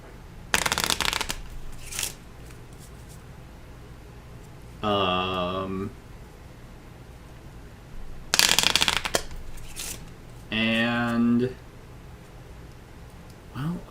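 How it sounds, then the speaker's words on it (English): Cards for the Earthborne Rangers board game being shuffled, several short bursts of riffling spread across the span, with a person talking in between the shuffles. "And now this finally gets shuffled."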